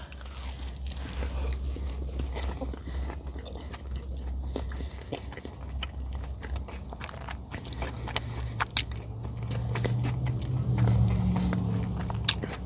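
Biting into and chewing a Taco Bell mini crunchwrap topped with spicy sauce, with close, crisp crunches and wet chewing repeating steadily throughout, growing a bit louder toward the end.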